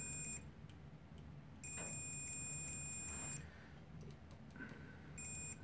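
A cheap Mastercraft multimeter sounds its continuity test in short high-pitched electronic beeps, one brief tone followed by a longer sustained beep and another short one, against a quiet room background.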